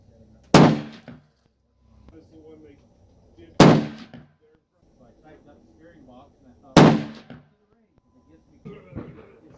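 Rifle shots from a Tikka T3X Light chambered in 6.5 Creedmoor firing 120 grain Nosler Ballistic bullets: three sharp, loud reports about three seconds apart, each with a short decay, and quieter voices and clatter between them.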